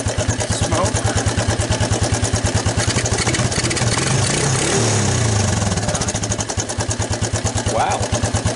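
A Suzuki ATV, revived after years abandoned and running on pre-mix gas, idles close by with a loud, rapid, even putter throughout, and a voice is heard briefly beneath the engine.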